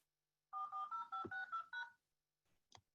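Telephone keypad tones as a number is dialed to call in: six quick clear beeps in an even rhythm, followed by a brief pause and a faint click.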